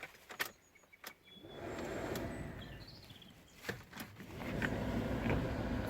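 Electric windows lowering on a Ford Mondeo ST, a steady motor whir running for a few seconds at a time, broken by a couple of clicks and knocks at the start and middle, heard up close with no talk.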